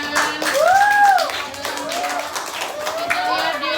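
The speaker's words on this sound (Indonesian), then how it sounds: "Beri aplaus, tepuk tangan." Children in a classroom clapping for a coding group's presentation, with dense, continuous applause, a higher voice rising over it, and a speaker talking through it.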